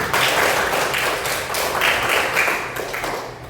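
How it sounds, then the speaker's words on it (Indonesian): Students in a classroom give the presenting groups a round of applause, a thick and steady patter of many hands clapping close by for several seconds, with little talk. "kita berikan tepuk tangan dulu"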